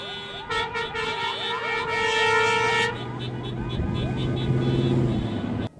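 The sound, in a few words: car horns honking in a vehicle parade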